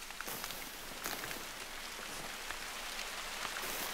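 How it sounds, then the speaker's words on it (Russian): A heavy rain shower falls steadily in an outdoor hunting-game setting, making a dense, even hiss of drops with a few louder patters, faint overall and without voices. "Раз уж тут ливень пошел."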